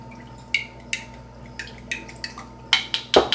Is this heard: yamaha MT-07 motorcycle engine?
no